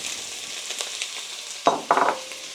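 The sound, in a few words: onion frying in oil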